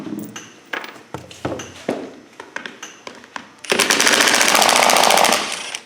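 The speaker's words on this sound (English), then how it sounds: "I've got a 3/8 impact wrench, and this one's adjustable." A 3/8-inch adjustable impact wrench removes small bolts from a planter's closing wheels: several short sharp rattling bursts separated by pauses, then one long sustained hammering run, loud and close.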